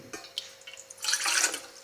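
Water is poured into a pot to make tea for two, with a few close splashy trickles and drips at first, then a fuller, louder stream of pouring near the end, alone without talk.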